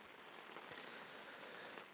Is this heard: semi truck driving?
no